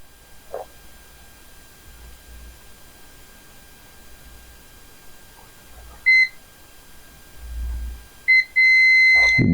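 Mostly quiet with faint background hiss, then short electronic beeps from test equipment checking a Pixel 4 XL circuit for a short near the end, the last one held as a steady tone.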